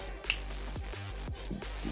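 A single finger snap, crisp and close to the microphone, as a test of a microphone noise-suppression plugin, followed by faint low room hum.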